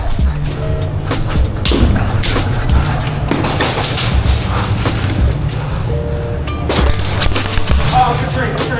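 Airsoft game with grenade blasts and bursts of gunfire, sharp pops and booms scattered throughout over a dense, steady background of movement and voices.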